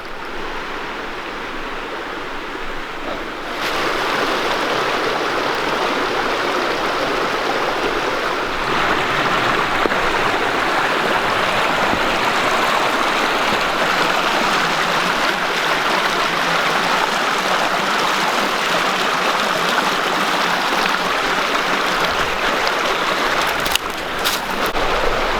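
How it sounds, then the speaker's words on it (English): A river in the woods rushes and churns steadily, a loud, broad wash of flowing water that holds constant for the whole stretch without any talk. "we have river, and hopefully it's crossable."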